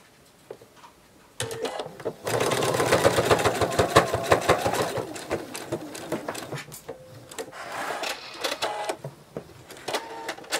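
A sewing machine stitches penguin plush fabric, with rapid, rhythmic mechanical clatter running in close bursts after a quiet start, pausing briefly and then resuming.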